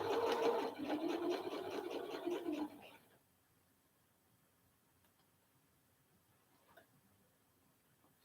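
A sewing machine runs in a short burst of quick, rhythmic stitching on a Remy raglan top, then stops after about three seconds, leaving near silence with a few faint ticks.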